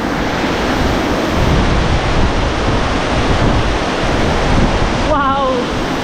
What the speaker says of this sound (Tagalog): Malakas yung tampitaw ng tubig.